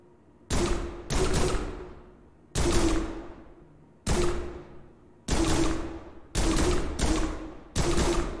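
Riot gun in the video game Prison Simulator fired seven times at uneven intervals, each heavy, close blast trailing off in a short decaying tail before the next.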